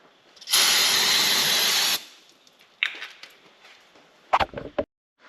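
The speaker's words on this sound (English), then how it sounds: "spray it down with some parts cleaner" A loud, steady hiss of aerosol parts cleaner sprayed on a Jeep Grand Cherokee driveline lasts about a second and a half, followed by a few light clinks and rattles of handled parts.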